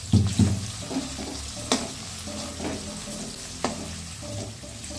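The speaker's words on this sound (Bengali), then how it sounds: "আলু ভাজা হচ্ছে, আলুর চিপস। তেল আর একটু গরম হবে রে।" Potato chips frying in hot oil sizzle and crackle steadily at close range, with occasional sharp clinks and stirring knocks from a utensil in a home kitchen.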